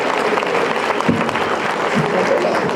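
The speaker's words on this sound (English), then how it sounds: "Let's give him a round of applause." Audience applause at a youth athletics gala in Georgia, a steady wash of clapping from a large crowd lasting the whole moment, fairly loud and close.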